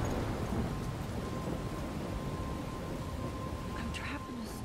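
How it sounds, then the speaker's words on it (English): Heavy rain and rumbling thunder from a storm in the video game Life Is Strange, a dense, steady roar that continues throughout, loud and close. "You just caught in a rainstorm."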